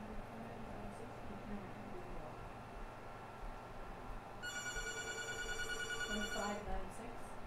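A telephone rings as a caller phones in during a televised bingo game, a bright repeated ring starting partway through and cutting off near the end, over low room noise.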